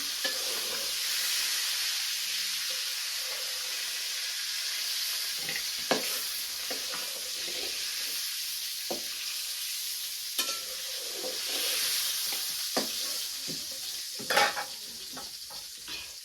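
Fish fries in a pan in a village kitchen, a loud steady sizzle and hiss with intermittent scraping and clinking stir strokes, close by and continuous, no speech.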